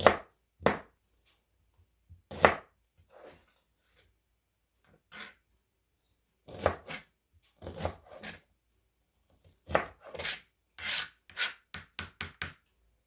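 A knife cuts a small piece of cornbread on a board, giving scattered soft thuds and scraping strokes, some single and some in quick clusters, with quiet gaps between.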